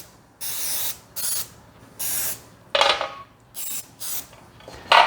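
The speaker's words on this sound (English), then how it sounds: "so I'm going to spray the whole muffin tin." Cooking spray hisses onto a muffin tin in seven short, sharp bursts of about half a second each, close and clear, with brief quiet gaps between them and no talking.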